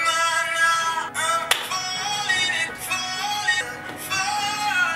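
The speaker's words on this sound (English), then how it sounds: "I need to stop clapping" Hands clap in quick, fairly steady bursts, close and fairly loud, over music late at night.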